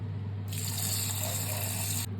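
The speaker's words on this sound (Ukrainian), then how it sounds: "висипаємо і заливаємо водою" Water pours from a tap over buckwheat for cooking, a steady bright rushing gush that starts abruptly, runs for about a second and a half, then cuts off over a constant low hum.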